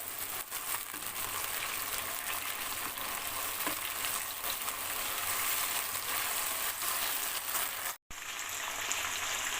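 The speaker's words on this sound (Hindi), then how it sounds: "प्याज मेरे ब्राउन हो रहे हैं, तो अब मैं इसमें डाल देती हूँ थोड़ा सा पानी" Browning onions sizzle in a pan after a little water goes in, giving a steady loud hiss and crackle for the whole stretch with a brief cut near the end, close up and with no talk.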